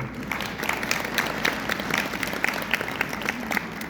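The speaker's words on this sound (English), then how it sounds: "the applause for our helpers there" Audience applause fills a town hall meeting in Alamogordo, New Mexico, a dense, steady patter of many hands clapping that holds evenly for the full few seconds.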